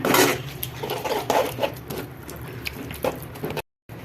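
A ladle scrapes and clinks against a pan as roadside-style mushroom gravy is stirred and broken up, giving irregular close metallic taps and scrapes over a soft bubbling background, followed by a brief silent gap near the end.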